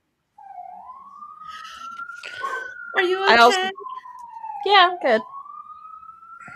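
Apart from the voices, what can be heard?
emergency vehicle sirens in city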